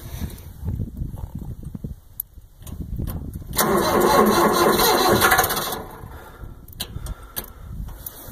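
A Mahindra 6000 tractor diesel engine cold-starting in sub-zero weather after preheating: a loud cranking burst around the middle that catches briefly, with quieter mechanical clatter and rumble before and after.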